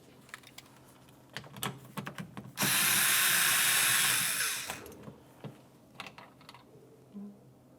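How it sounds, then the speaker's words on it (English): A power tool whirs for about two seconds while removing a 7mm-headed mounting bolt from the liftgate grab handle of a 2000-2006 Chevrolet Tahoe, with scattered close clicks and taps before and after. "Remove the 7mm headed mounting bolt."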